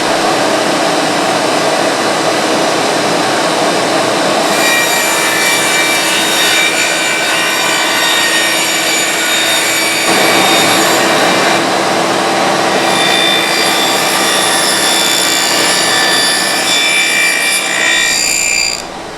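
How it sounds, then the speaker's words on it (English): A table saw fitted with two doubled-up blades and a spacer cuts a dado into wood, a loud steady whining drone that holds throughout with the pitch shifting slightly as the blades bite. "there I just made this dado right here that this rabbet fits into"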